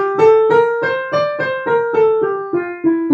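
A scale combining Phrygian and Dorian modes played note by note on a pitched instrument, about ten evenly spaced tones stepping downward, clear and close with no voices.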